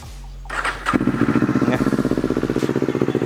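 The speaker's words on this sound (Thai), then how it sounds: "เรามาฟังเสียงท่อกัน" A 2019 Kawasaki Z400 SE in near-new condition starts up and settles into a loud, close idle with an even, rapid exhaust pulse; no talk.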